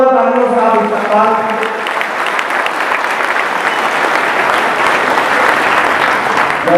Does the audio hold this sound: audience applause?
yes